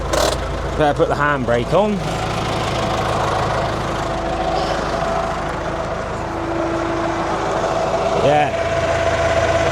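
A Case 4230 4x4 loader tractor idles steadily with its PTO engaged, a loud, continuous diesel drone with a faint whine running under it, while people talk briefly nearby.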